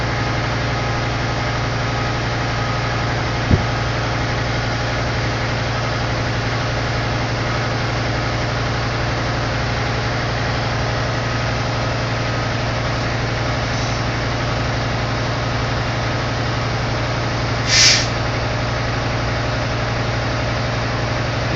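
A truck engine idles steadily through an in-cab air brake test, a continuous low hum that holds even and unbroken, with a brief click early on and a short hiss of air near the end.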